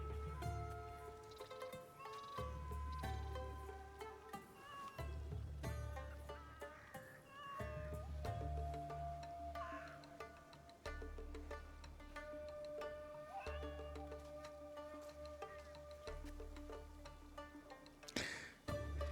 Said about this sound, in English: everything has to stop while I try to pet this cat